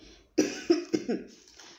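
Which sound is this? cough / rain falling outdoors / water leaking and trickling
cough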